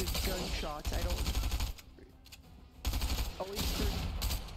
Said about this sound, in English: I hear a fight. I see good gunshots.